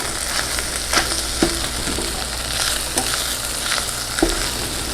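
A flour and sausage roux for sausage gravy cooks in a pan, a loud, dense frying crackle with the regular scrape and tap of a spatula stirring through it.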